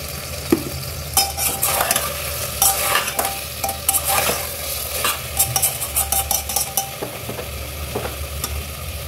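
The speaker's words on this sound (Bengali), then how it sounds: "ঢাকা দিয়ে দিয়ে এরকম ওপর থেকে ঢাকাটা দিয়ে দিয়ে আমি কষাচ্ছি" Chicken stew sautéing and being stirred in a pan, with steady sizzling frying under repeated scraping strokes of a spoon against the pan, close and continuous with no talk.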